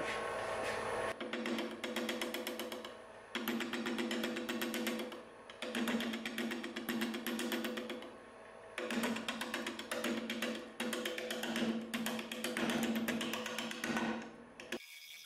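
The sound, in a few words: woodturning lathe spinning maple burl and resin blank at 300 RPM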